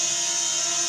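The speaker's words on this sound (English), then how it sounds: "this is a drone." A steady, high-pitched motor whine with a constant buzzing hum, loud and unchanging throughout the short moment, like a small drone hovering nearby.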